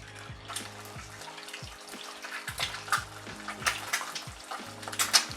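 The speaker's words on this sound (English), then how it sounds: "In goes the egg." An egg drops into very hot oil in a pan for chow mein, giving a steady crackling sizzle with scattered sharp pops that build slightly over several seconds, close and without voices.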